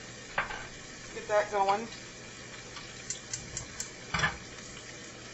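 A little more than a tablespoon of real butter melts in a pan with a soft, steady sizzle, a few light clinks, and a brief spoken remark near the start.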